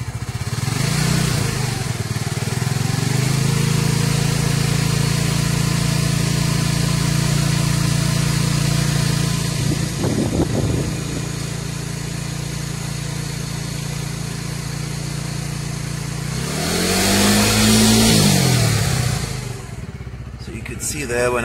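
A Suzuki GSX-S 125 motorcycle engine idles steadily, then is briefly revved twice, the pitch rising and falling with each blip. Someone talks throughout over the close engine sound.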